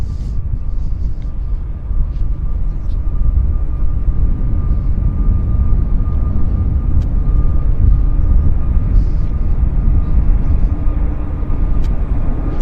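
A departing airliner at Vancouver airport gives a loud, steady, broadband jet roar with a faint whine, heard continuously throughout.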